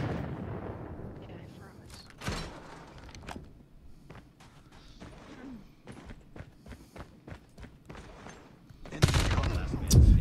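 Mythic MG42 machine gun in Call of Duty Mobile, a ranked Search and Destroy match, firing in scattered bursts with a loud burst near the end, mixed with footsteps and other game noise while a voice talks over it.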